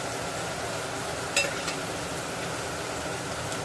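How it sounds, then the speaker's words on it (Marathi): Curry leaves crackle softly in hot tempering oil over a low flame for a toor dal tadka, a steady faint sizzle with a couple of brief clinks and no talking. "कढीपत्ता सुद्धा परतून घ्यायचा आहे"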